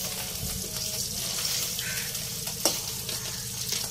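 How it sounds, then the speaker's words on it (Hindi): Small puti fish fry in hot oil in a pan over a wood-fired clay stove, giving a steady, dense sizzle and crackle throughout, with a brief sharper spatter near the end. "पहले मैं थोड़ा पुट्टी माछ को थोड़ा फ्राई करके रख रही हूँ"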